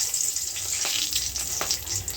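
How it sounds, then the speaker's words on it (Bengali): Whole spices hit hot oil for a mutton curry, crackling and sizzling loudly and continuously up close, with small pops scattered through the short burst. "এই মশলাগুলো আমি দিয়ে দিচ্ছি।"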